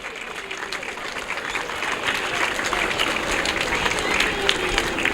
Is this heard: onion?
no